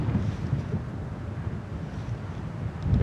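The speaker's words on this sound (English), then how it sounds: "look at that wind blowing." Strong northwest wind gusting across open Wyoming prairie, a steady loud low roar buffeting the microphone throughout with no talk.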